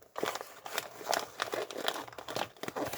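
Plastic packaging around a small toy crinkling and crackling in quick, close, irregular bursts throughout, with no talking.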